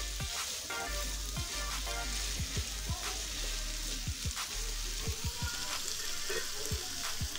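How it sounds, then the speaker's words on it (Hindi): Minced meat (keema) frying in spices in a pan, with a dense, continuous sizzle. Sharp pops and crackles break through the sizzle irregularly. The sound is close and steady, with no voices. "ये कीमे को मसाले में भूनेंगे"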